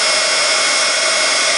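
Heat tool blowing hot air to melt Ranger embossing powders on polymer clay, a loud, steady, close whoosh with no pauses.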